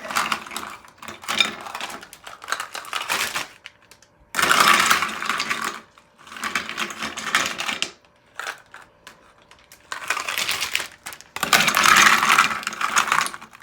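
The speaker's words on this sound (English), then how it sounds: "Then put half of some ice in the bag." Ice being dropped into a plastic bag for homemade ice cream, heard as bursts of clattering, crunching rattles in several separate pours with short pauses between, close and fairly loud.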